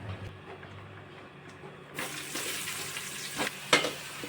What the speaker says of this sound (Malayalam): ഇനി ഇത് സെയിം എണ്ണയിലേക്ക് വേണം നമുക്ക് ആ സവാളയും തക്കാളി പച്ചമുളകൊക്കെ വഴറ്റിയെടുക്കാൻ